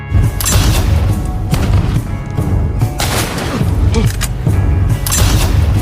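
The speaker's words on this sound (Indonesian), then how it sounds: "ada suara tembakan di sana yang menyerang mereka dan terjadilah baku tembak di sana." Repeated gunshots and bursts of gunfire in a Western cowboy film shootout, loud and close, with booming impacts spread across the clip and no pause in the noise.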